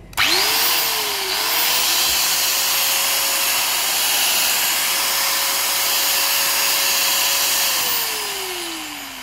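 A Makita 9553NB angle grinder, made in Thailand and rated around 11,000 rpm, spins up and runs with a smooth, steady high whine at close range, then winds down at the end.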